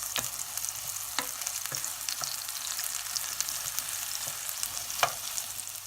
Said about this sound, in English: And then we scramble the egg together with the daylilies.